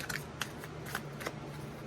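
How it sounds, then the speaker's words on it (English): Tarot cards being shuffled by hand, a few soft crisp riffling snaps in an irregular rhythm, close but quiet over a low background hum. "Again, I already shuffled, but I'll shuffle a couple more times."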